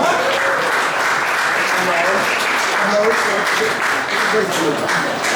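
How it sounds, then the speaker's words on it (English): Audience applause for an award recipient at a sports club awards night, a steady wash of clapping throughout with voices mixed in beneath it. "Give him a clap"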